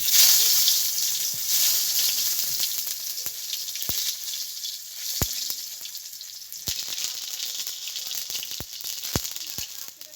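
A halved tomato frying in hot oil in a pan, giving a steady, close sizzle throughout with scattered sharp pops and crackles.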